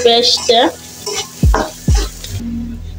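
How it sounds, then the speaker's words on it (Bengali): Onions soften in a hot pan for a tomato fish bhuna, crackling and sizzling close up while a spatula scrapes and stirs in a few distinct strokes. "পেঁয়াজটা ভাজা হয়ে গেছে।"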